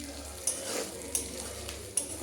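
Onions frying in a pan for chilli chicken, a soft steady sizzle with a few sharp metallic clinks of a spoon stirring against the pan at regular intervals, no voices.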